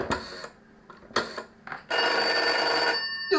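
An old telephone bell gives a few short rings, then a sustained, loud metallic ring as it is dialled from another phone.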